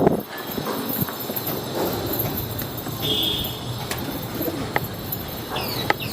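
Pigeons coo close by amid a restless outdoor scene, with soft wing flutters, scattered clicks and taps, and background bustle.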